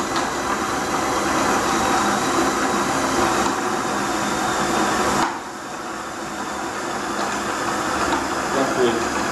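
A grain mill grinds with a loud, steady mechanical roar and whir that runs continuously, easing slightly partway through before building again, with a person talking over it.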